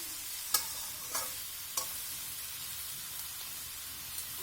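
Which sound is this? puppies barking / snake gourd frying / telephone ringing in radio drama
snake gourd frying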